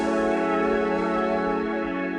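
A dense, sustained synth chord rings steadily, thick and slightly grainy, held without a break.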